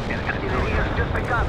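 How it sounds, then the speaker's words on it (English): Incoming artillery rounds exploding in the real-time strategy game World in Conflict: Soviet Assault, a dense, continuous rumbling roar of blasts with voices mixed in throughout. "You have incoming rounds, Romanov."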